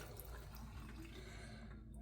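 Faint tap water running full on over a cheap IP68-rated smartwatch in a bathroom sink, a soft, steady trickle and hiss, distant and low in level.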